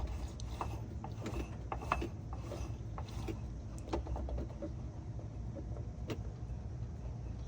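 A ratchet tightens bolts while gears go into a manual Crown Vic, its clicks quiet and scattered over a dull background rumble.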